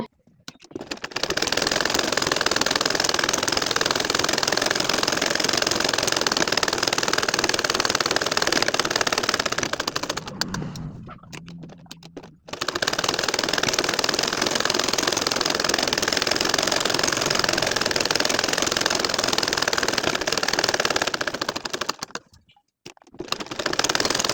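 A sewing machine stitches curved lines on a nakshi kantha quilt in a fast, even whirring run. It pauses briefly midway, resumes, then stops again near the end.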